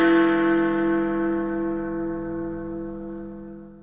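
The Great Bell of Big Ben, cast in 1856, strikes a single deep toll that rings on with a long, slowly fading hum of overtones, heard alone and fairly loud.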